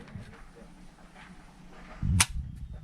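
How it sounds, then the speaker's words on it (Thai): A Norinco 9mm pistol's trigger is pulled during a trigger-weight measurement, producing a single sharp, close mechanical click after a stretch of quiet handling noise. "ทีนี้ เรามาวัดน้ำหนักไกลปืนดูนะครับ"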